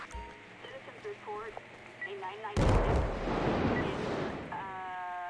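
Talk abruptly cut off by a sudden loud explosion in GTA 5, followed by a long roaring, crackling rumble that fades into a tone.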